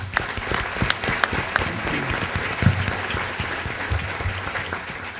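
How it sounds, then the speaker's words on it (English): A business breakfast audience claps for the event's sponsors, a sustained, fairly loud round of applause from a roomful of people with scattered sharper individual claps throughout. "If we could please have a round of applause for all of our sponsors"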